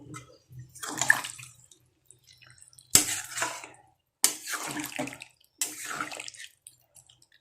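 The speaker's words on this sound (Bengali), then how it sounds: "এরপর কিন্তু আমি জল দিয়ে দিচ্ছি" Cold water poured into a cooking pan of pointed gourd and prawns, heard as several separate splashing pours with short pauses between them, close and fairly quiet, with no talk.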